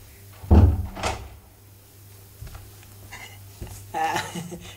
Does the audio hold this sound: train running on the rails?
no